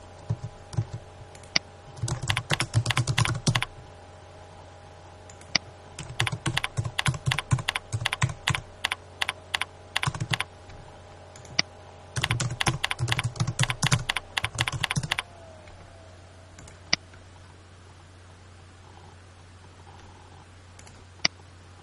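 Computer keyboard typing as contact details are entered into a Salesforce form: close, steady bursts of rapid key clicks separated by short pauses, then quiet at the end, with no talking.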